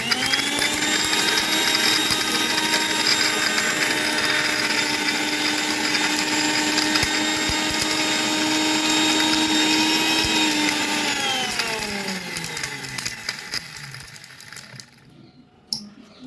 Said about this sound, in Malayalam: ഇതിന് ഈ മിക്സിയുടെ ജാറിലേക്ക് നമുക്കൊന്ന് പൊടിച്ചെടുക്കാം